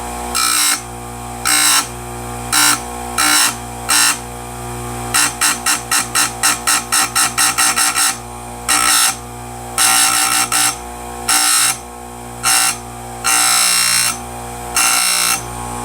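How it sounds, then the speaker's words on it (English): Stihl USG round grinder sharpening a damaged chainsaw chain, cutting heavily into the teeth: loud repeated bursts of high grinding whine, some long, some in quick rapid pulses, over a steady motor hum. "This machine is by far my favorite round grinder that I've ever used"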